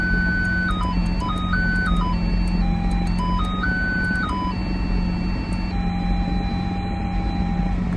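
Parking sensor beeps on a Lamborghini Aventador SVJ, pitched up and down to play a stepped little tune, steady and clear over a low constant cabin hum, with no talking.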